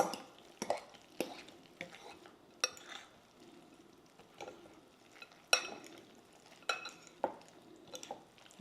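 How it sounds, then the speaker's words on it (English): Stovetop stuffing, egg mixture and crab meat being stirred together in a bowl for crab cakes, a run of soft irregular scrapes and clinks from a utensil, fairly quiet with short pauses. "we're just going to mix this up. Stuffing and the egg mixture here"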